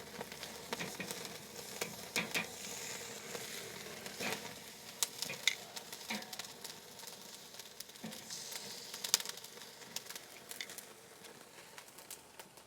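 Iberico pork secreto sizzles steadily on a Weber Glen Blue kettle grill, a continuous close frying hiss with scattered pops and crackles, heard alone without talk.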